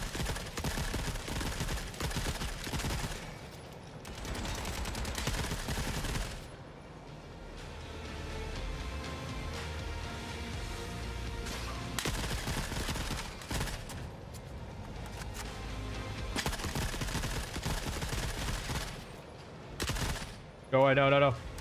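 Rifle gunfire in the video game Forever Winter, with repeated bursts and dense clusters of shots running through most of the stretch, loud and close, mixed with game sounds and some talk.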